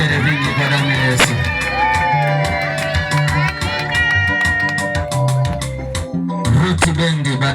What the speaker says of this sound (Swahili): Ongeza makofi na vigelegele vingi kwa damu ya Yesu.